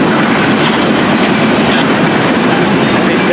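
An FEC freight train hauling tank cars rolls steadily past at close range, a loud continuous roar of wheels and rumbling cars with faint clickety-clack running throughout.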